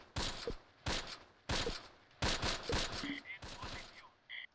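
Gunfire in the World War II strategy game Close Combat, set in fog in August 1944, comes as about five separate sharp bursts at even intervals, each with a short echoing tail and faint tones in between.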